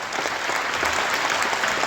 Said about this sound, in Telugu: చేతులున్న వాళ్ళు అందరూ చప్పట్లు కొట్టాలి అనేసి